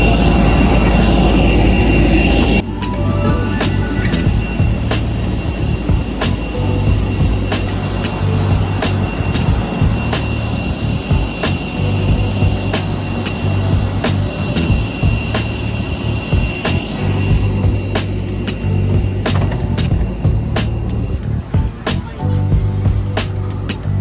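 Steady loud engine drone fills a Wizz Air airplane cabin bound for Armenia, a continuous low roar with tonal hum running throughout, preceded by a brief louder burst at the start.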